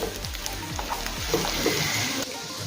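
Potatoes with spices fry in a pan over a low gas flame, a soft steady sizzle with faint stirring scrapes close by.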